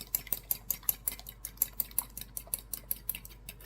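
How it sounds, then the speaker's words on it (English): Eggs being whisked with a utensil in a bowl, quick rhythmic clinks and scrapes repeating steadily at close range with no talking. "I'm going to just scramble the eggs up a little"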